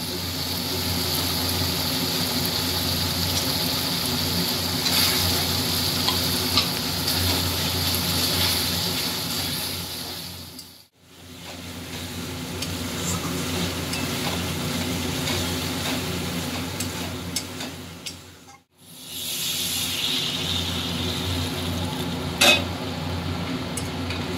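Spice masala frying for a fish curry with eggplant and potato makes a continuous close sizzle with stirring scrapes, broken twice by brief silences, with a low background hum underneath.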